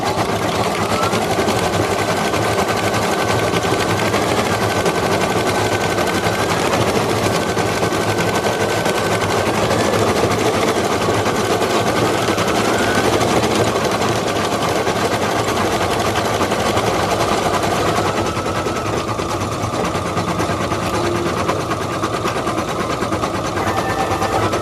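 An embroidery machine stitches a felt mask applique in a continuous, loud, dense mechanical buzz that holds steady throughout, with faint shifting tones over the rapid needle rhythm.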